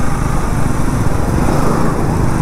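A motorcycle engine revs on a forest road during a wheelie attempt, a loud, near, buzzing drone that holds steady and rough throughout with no voices over it.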